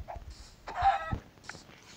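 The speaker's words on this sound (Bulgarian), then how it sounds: "Кокошка. Храна." Chicken clucking in the video game Minecraft, a few short mid-pitched clucks spread over two seconds, fairly faint with light background noise.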